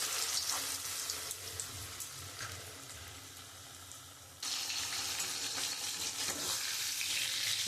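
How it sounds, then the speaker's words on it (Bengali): Chicken pieces sizzle and crackle steadily in hot oil in a wok, the frying loud and close. A brief drop is followed by a fresh surge of hiss as more pieces go into the oil. "এবার এক এক করে আমি মাংসটা ভেজে নেব।"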